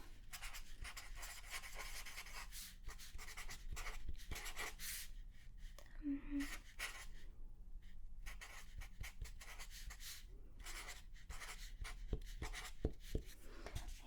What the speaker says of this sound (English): So let's just write that down.